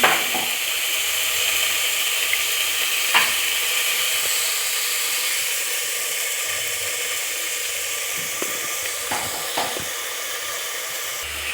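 Black-eyed peas hitting a hot pan give a steady, broad sizzle that holds throughout, with a few brief clinks and scrapes over the top, close and fairly loud, no talking.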